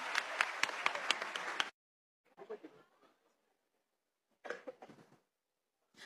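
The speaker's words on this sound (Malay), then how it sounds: "Tepukan untuk Ilya." A short burst of crowd clapping and applause fills the first moments, then cuts off, followed by scattered quieter talk.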